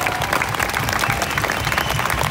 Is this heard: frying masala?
no